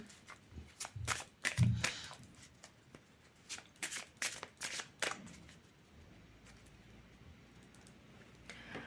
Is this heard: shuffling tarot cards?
yes